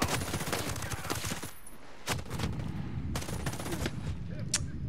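Gunfire in the tactical shooter Ghost Recon Breakpoint: dense automatic bursts and repeated shots fill the whole stretch, loud and close, with sharp bright cracks standing out near the middle and toward the end.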